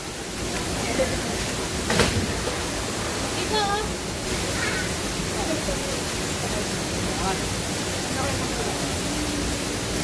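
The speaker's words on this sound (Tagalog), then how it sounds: "Wow, tubig. Tubig sa bukal." Water at a spring beside Malatongtong Falls rushes in a steady, broad hiss throughout, with a person's brief exclamations and faint voices over the constant flow.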